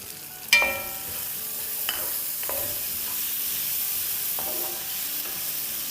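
Green onion whites and chopped coriander stalks sizzle in hot oil as they are stirred in a pan for chicken chilli, with a steady frying hiss broken by a few sharp spatula scrapes and clinks, close and without talk.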